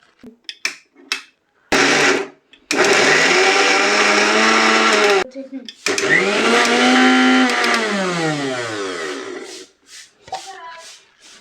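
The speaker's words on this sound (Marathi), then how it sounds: "हे आता आपण मिक्सरमध्ये मिक्सरच्या भांड्यामध्ये काढून घेऊन त्याला हे करू आपण वाटून घेऊ" A mixer grinder blending a hara bhara kabab mixture of cooked vegetables, loud close whirring bursts that start, stop and restart, with the motor pitch sagging as the load grinds down, amid short handling noises.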